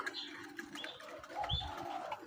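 Zebra doves (perkutut) coo softly at a home bird collection, a few gentle calls repeating among other faint bird sounds.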